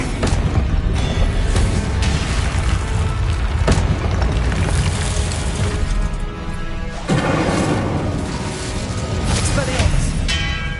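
Spell blasts in the video game Hogwarts Legacy, several booming bursts and crashing impacts over dense game music and effects, loud and close, with a voice calling out over them.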